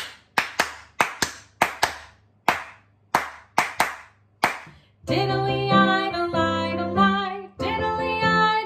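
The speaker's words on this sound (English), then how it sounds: "Then we'll clap our hands." Hands clap in an irregular rhythmic pattern, sharp single claps with short pauses, for several seconds before singing voices with music take over.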